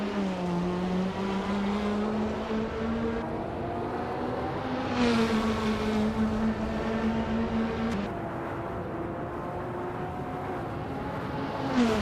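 Group 5 race cars in a racing video game lap the Deutschlandring, their engines roaring loud and close. Pitch shifts as they rev through gears and a change occurs midway, with other cars droning in the background.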